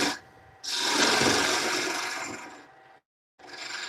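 A carbide tool shaping a wooden piece on a lathe gives a raspy, scraping cut in two bursts, the first long and loud, the second shorter after a brief silence, close and with no talk.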